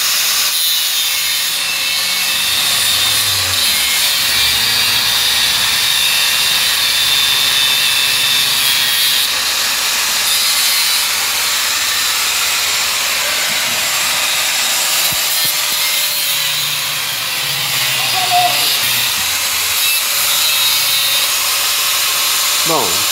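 Loud, continuous abrasive grinding while sanding metal to remove a weld on a Volkswagen Kombi steering part, a harsh, steady rasp that runs close and unbroken throughout with only slight dips in level.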